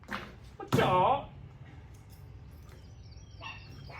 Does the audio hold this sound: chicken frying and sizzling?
no